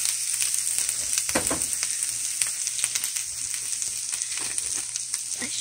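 Kale fries in a pan while being stirred, a moderate steady sizzle broken by scraping stirs and a few louder crackles, alone with no voices.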